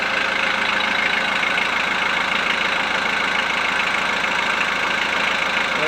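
A Volkswagen Transporter T4 with a 1.9 TD diesel engine idles steadily and evenly, close and loud, with a smooth continuous chug and no rattle, alone without talk.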